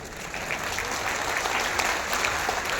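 An audience at a Jan Suraaj meeting claps steadily, a dense continuous wash of many hands at moderate loudness with no voices over it.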